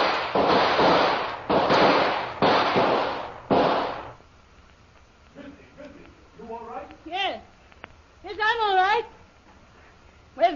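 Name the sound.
gunshot through a window in a radio drama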